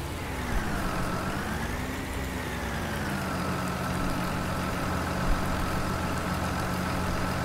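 Tractor engine in Farming Simulator 19 running steadily at a low, constant drone, with a gently rising and falling pitch as it works, loud and continuous with no talk.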